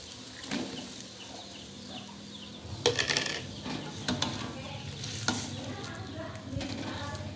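Tempeh being stirred in a pan with hot water and kecap manis, giving soft scraping and sloshing strokes with a few sharper utensil clinks against the pan, close and moderately loud.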